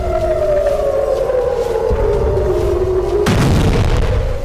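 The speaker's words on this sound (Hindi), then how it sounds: "हमास के रॉकेट दागे जाते हैं और इजरायली शहरों में सायरन बजने लगता है।" An air raid siren in an Israeli city during Hamas rocket fire wails loudly, its tone slowly sliding downward, and a heavy boom bursts in partway through.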